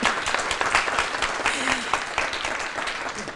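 An audience at a civic update on infant mortality in Columbus claps in a brief, steady burst of mixed handclaps filling the room, with a faint voice briefly audible underneath.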